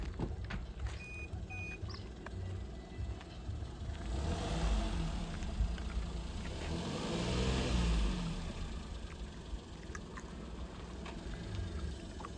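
A car in Himachal Pradesh reverses on half clutch during a driving lesson, its engine revving and swelling louder mid-clip before easing off, with faint reversing beeps in the background and no talk.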